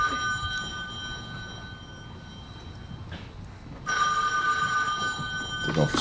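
A telephone rings in a sitcom bedroom scene, a bright bell-like ring starting partway through and continuing loudly to the end over a low background hum.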